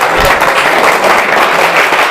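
A small crowd at an outdoor quiz show applauds a correct answer with dense, loud, continuous clapping from start to finish.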